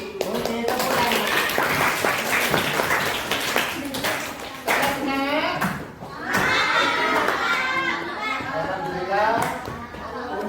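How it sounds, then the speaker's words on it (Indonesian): Schoolchildren in a classroom clap together in several short bursts, the applause mixed with thumps and voices chattering over it. "Oke, tepuk tangan."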